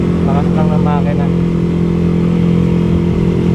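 A Yamaha Aerox 185cc scooter engine runs steadily and loudly at idle, a constant low drone with someone talking over it.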